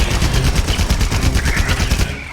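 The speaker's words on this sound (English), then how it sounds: "Things like the heavy bowgun with its machine gun turret ability." Heavy bowgun machine gun turret in Monster Hunter Rise on Nintendo Switch, firing a rapid, loud, continuous stream of shots that holds steady for a couple of seconds.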